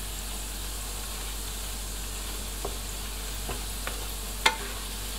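Pork belly deep-frying in oil over medium heat, a soft continuous sizzle and hiss with a handful of brief crackles and one sharper pop near the end, close and fairly quiet, no talking.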